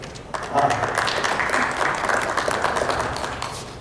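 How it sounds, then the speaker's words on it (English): Applause from attendees at a school district board meeting, moderate and fairly even for a few seconds, with faint voices mixed in. "give you a round of applause"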